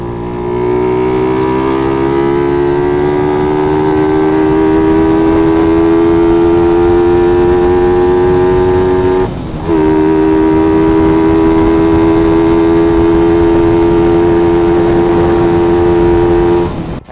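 A Suzuki Raider 150 Fi motorcycle fitted with a Kalkal aftermarket muffler gives off a loud, steady, high-pitched engine drone that holds nearly constant, dips briefly midway, and then resumes.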